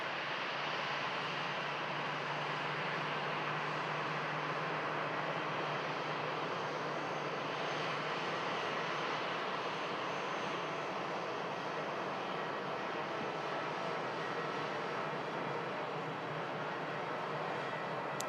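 A steady, droning small airplane engine roars continuously and evenly, loud and unbroken for the whole stretch, at an airport.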